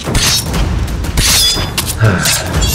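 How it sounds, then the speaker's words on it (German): A cannon shot tears through a ship in the pirate game Pixel Piracy, bringing sharp booms and splintering crashes in quick succession amid busy, clattering effects. "Schieß durch das Schiff."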